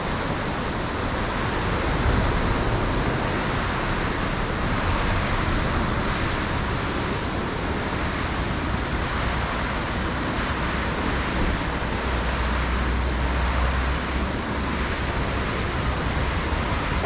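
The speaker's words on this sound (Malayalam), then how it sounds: "എങ്ങനെയാണ് വെള്ളത്തിൻ്റെ സൗണ്ട് നോക്കാം" Rushing river water near an iron bridge at Sonamarg in Kashmir roars in a steady, loud, unbroken wash with no break across the whole stretch.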